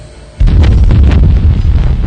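A space station blowing up in a science-fiction audiobook: a sudden loud, deep boom after a short quiet lead-in, then a sustained heavy rumble with crackling debris that fills the rest of the moment.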